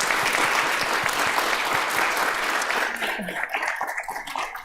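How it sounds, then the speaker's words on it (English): Big, steady applause fills a temple gathering in honour of the children, loud and dense at first, then thinning and fading toward the end. "I'd like to invite you to give a big applause to our children."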